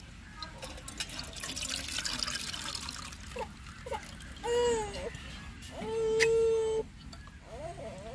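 Tamarind water poured into a pan while making a Tamil home-style dish, heard as a liquid trickle and splash alongside a few clinks of utensils, with brief bursts of sizzling or bubbling near the end.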